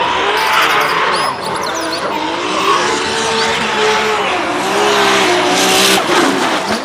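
Toy race car among a set of toy vehicles, giving a continuous loud engine-like whine with rising and falling revving tones, skid-like squeals and a dense noisy roar, close and steady throughout with no talk.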